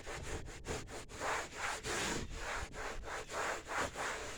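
Meguiar's Ultimate Insane tire shine protectant being rubbed by hand onto faded black plastic trim, a close, steady swishing scrub in repeated back-and-forth strokes with no talking.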